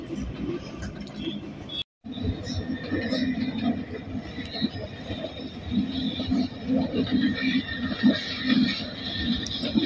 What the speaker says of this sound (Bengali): সকালে ট্রেনও যাইতেছে গা।